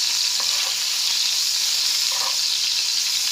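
Mutton keema sticks frying in oil, a steady close sizzle with bubbling hiss throughout and no talk.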